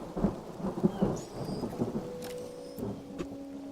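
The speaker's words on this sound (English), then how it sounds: "A storm is raging." Thunderstorm in the magic-school management game Mind over Magic: low rumbling thunder rolls and rain noise, moderately loud and alone, with a faint tonal hum appearing near the end.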